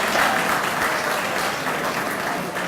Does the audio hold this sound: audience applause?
yes